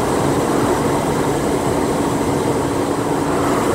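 A train runs alongside a desert interstate highway in New Mexico, its steady rumble merged with loud wind and road noise from a moving truck cab, continuous throughout with no talk.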